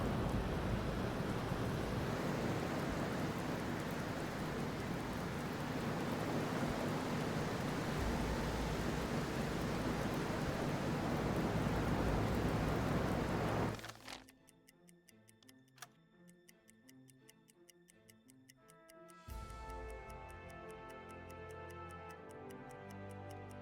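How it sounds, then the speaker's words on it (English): A Mediterranean storm at sea in the UBOAT submarine game roars loud and steady with wind and surf for about fourteen seconds, then cuts to a quieter scene of rhythmic mechanical ticking. "It's a bit of a storm, as you can see at the moment,"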